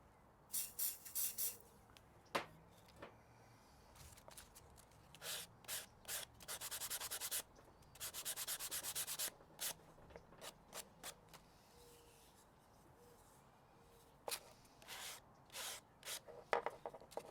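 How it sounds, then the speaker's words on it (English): Sandpaper scrubs against wood in short rhythmic bursts and longer strokes, with pauses between, close by and fairly quiet. "So I'll probably do a little bit more sanding on this."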